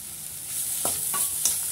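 Grated coconut and sautéed carrot stirred in a pan for chutney, a soft hiss with a few scraping spoon strokes close by, no talking.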